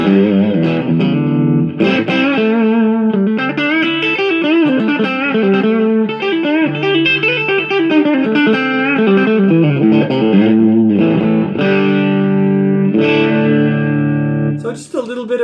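An electric guitar played through a Boss GE-7 EQ pedal with delay rings out in sustained chords and notes with slight breakup and trailing echoes, loud and continuous.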